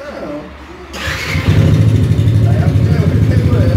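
Yamaha Fazer 150 motorcycle engine starting: a short starter crank about a second in, then the engine catches into a loud, close, steady idle, with someone talking over it.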